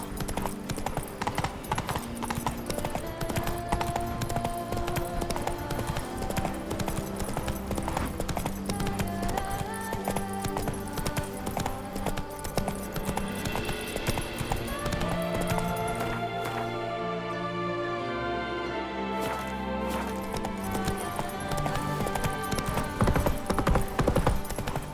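Roach the horse gallops in The Witcher 3 with steady, fast hoofbeats over game music and ambient hum, and a brief whinny.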